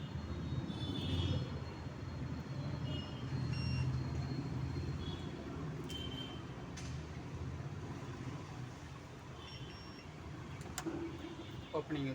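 A YT-2026 biometric door lock beeping while its door stands open: faint, short, high beeps repeat at irregular intervals over a steady low background hum, with some talk in the room.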